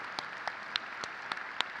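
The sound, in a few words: applause at high school graduation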